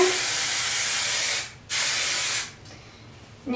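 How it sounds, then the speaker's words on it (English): Hairspray from an aerosol can sprayed onto hair in two loud, steady hissing bursts of roughly a second and a half each, with a brief gap between them and a fainter tail afterward. "now I'm just going to spray her hair with hairspray again so that"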